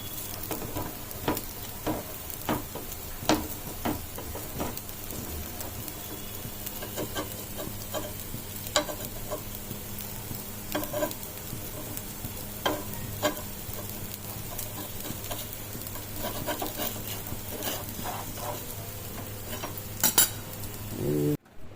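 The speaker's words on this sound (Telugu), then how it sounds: "వేసేసుకుంటున్నాం దోశ చూడండి" Jowar dosa batter sizzles steadily on a hot pan, with a constant close hiss broken by frequent light clinks and scrapes of a utensil against the pan, and no talking.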